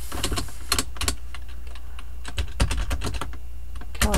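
Typing on a computer keyboard while laying out a wedding program in Microsoft Word, with scattered clusters of sharp key clicks separated by brief pauses, close and clear over a steady low hum.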